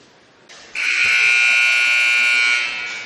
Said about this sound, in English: that buzzer means we are back